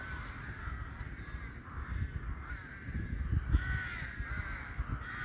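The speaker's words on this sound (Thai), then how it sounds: "เสียงนกกระร้องดีจริงๆเลย" Several crows caw in a loose, repeating rhythm at a moderate distance over a low, continuous outdoor rumble beside a wild garlic patch in Sweden.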